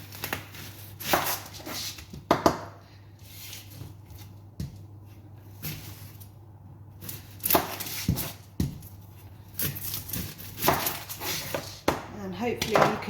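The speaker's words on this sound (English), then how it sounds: "I'm going to start by chopping 2 onions" Two onions being chopped with a knife on a cutting board in a home kitchen, irregular close knocks and slicing taps, with a person talking over them.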